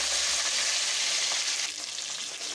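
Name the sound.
onions, tomatoes and chillies sautéing in a pan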